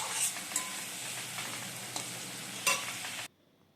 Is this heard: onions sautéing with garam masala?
yes